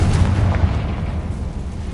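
A Confringo fire spell blast in Hogwarts Legacy, a deep booming explosion with a rumbling low-end tail that lingers for a couple of seconds, loud and close with no voices.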